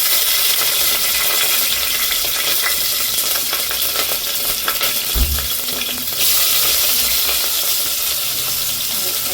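Green chillies frying in hot oil, a loud continuous sizzle and crackle with a brief low clunk partway through.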